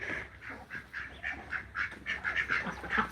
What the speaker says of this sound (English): those two ducks, the main Muscovies, Inky and Pinky, on that side